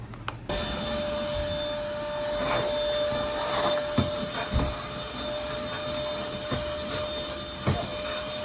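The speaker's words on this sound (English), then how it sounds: "I'm about to vacuum" A vacuum cleaner runs inside a car after a click at the start. It holds a steady, fairly quiet whirring drone with a thin constant whine, and soft knocks and shuffles come as the nozzle moves around.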